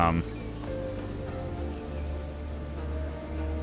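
Rain falls in the city-building survival game Endzone: A World Apart, a steady soft patter over low ambient game music, with nobody talking.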